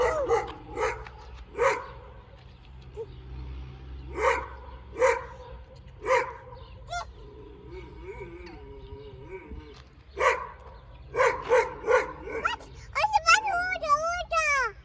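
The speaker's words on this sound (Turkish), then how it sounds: "Bağırma köpek." A dog barks in short bursts at a park, some sharp yips and a whimper among them, fairly close, while a child and an adult talk between barks.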